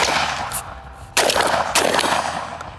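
A Benelli M4 shotgun fires 12 gauge double-aught buckshot outdoors in three sharp, loud blasts. The first is smaller, the last two come hard about half a second apart, and each trails off in a rumbling echo.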